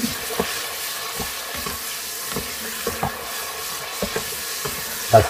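Tomatoes fry with masala in a pan while being stirred, giving a soft, steady sizzle with intermittent scraping clatter close by. No one speaks.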